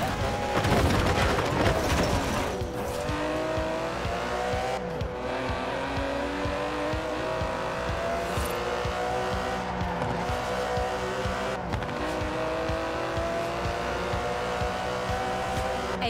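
An Aston Martin DB11 with a 5.2-litre twin-turbo V12 drives hard in Forza Horizon 4, a loud, continuous engine roar with rising revs and sharp bursts and shifts, heard close and steady throughout.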